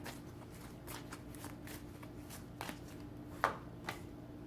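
Tarot cards being shuffled by hand, a quiet series of soft riffling flicks and taps close up, with a sharper snap near the end and no talking.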